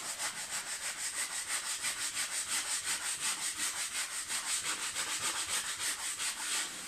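Hand sanding rounds the curved edge of a wooden breakfast bar, a rhythmic back-and-forth scratching of paper on wood, quick and even strokes, close and moderately quiet, with no voices.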